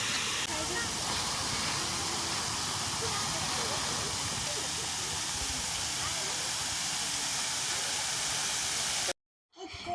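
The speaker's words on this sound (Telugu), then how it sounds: "వాటర్ ఫౌంటైన్ బాగుంది కదా" A water fountain at the Karimnagar deer park splashes in a steady, loud, hissing rush that runs unbroken before cutting off abruptly near the end.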